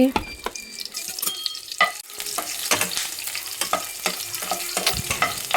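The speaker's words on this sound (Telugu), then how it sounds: "అది హీట్ అయిన తర్వాత బిర్యానీ స్పైసెస్ ఉల్లిపాయలు పచ్చిమిర్చి కరివేపాకు వేసుకొని ఫ్రై చేసుకోవాలి" Biryani spices, onions, green chillies and curry leaves fry in hot oil and ghee for tomato rice. Crackling sizzle mixes with frequent spatula scrapes and clinks in a busy, close, moderately loud stream, with no speech.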